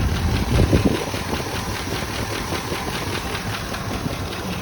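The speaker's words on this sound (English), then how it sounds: "there's a little bit of a ticking noise you can kind of hear" A 1967 Ford Thunderbird engine idles steadily with a fast, faint rhythmic ticking from a stuck exhaust valve riding over its low rumble.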